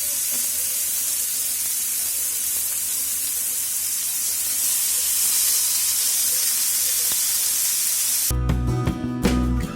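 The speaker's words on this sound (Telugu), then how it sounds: "మ్యారినేట్ చేసుకున్న చికెన్ పీసెస్ని పెట్టుకోవాలి. పెట్టుకొని హై ఫ్లేమ్లో 2 to 3 minutes గ్రిల్ చేసుకోవాలి." Marinated chicken legs sizzling on a grill over high flame, a steady loud hiss holding for several seconds before a sudden burst of clattering and handling noise at the end.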